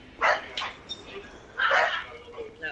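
Dogs bark in Dark Souls 2 in the No Man's Wharf area, a few sharp barks and yips in two clusters, moderately loud amid game ambience.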